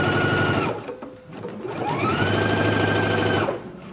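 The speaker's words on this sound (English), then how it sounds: "Let's go ahead and stitch it now." A home sewing machine runs up a seam on a garment in two loud, close, steady bursts with a brief pause between them, the motor's whir carrying a continuous rapid stitching rhythm and no talk.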